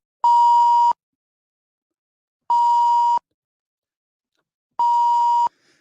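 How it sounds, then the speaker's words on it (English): Three identical censor beeps from a button, each a steady pure tone lasting under a second, spaced evenly about two seconds apart with silence between them. "A beep button"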